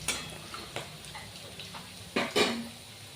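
Onion, green chili and peanuts frying in a pan with cumin and mustard seeds for kanda poha, giving a soft steady sizzle broken by a few sharp clinks and stirring scrapes, the loudest near the end.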